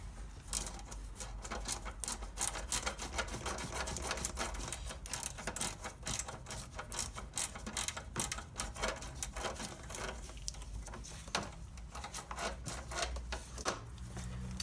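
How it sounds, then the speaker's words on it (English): A ratchet spanner working a bolt beside the alternator of a Ford Focus 1.6 diesel, giving rapid, uneven clicking strokes that run steadily and close by. "I'm just going to use a ratchet spanner, I think, for better access"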